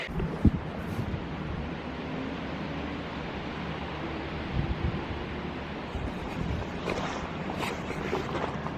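Strong, incessant wind blows steadily outdoors, a loud continuous roar and rush that buffets the microphone, with a few brief louder gusts and no talking.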